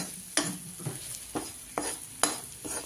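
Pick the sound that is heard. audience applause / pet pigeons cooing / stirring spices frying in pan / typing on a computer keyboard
stirring spices frying in pan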